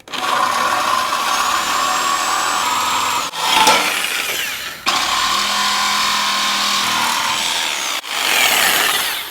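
A power saw cuts through the steel frame of a 1955-1959 Chevy C10 truck, running loud and close in long sustained passes broken by two brief pauses.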